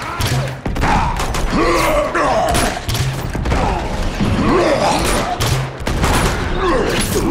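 Gunfire aimed at guardians in Uncharted 2 rattles in loud, sustained bursts with heavy thuds, continuing almost without a break while a voice is faintly heard underneath.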